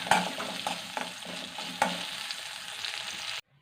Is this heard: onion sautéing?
yes